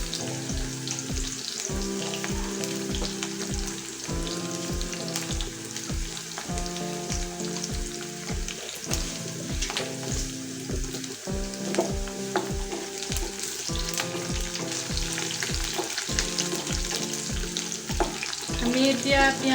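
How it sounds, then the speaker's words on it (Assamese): Onions fry in a pan with a pinch of sugar, giving a steady close sizzle broken by regular, rhythmic knocks and scrapes of stirring throughout. "আমি এতিয়া পিঁয়াজখিনি অকণমান ৰঙচুৱা হোৱালৈকে ভাজি ল'ম।"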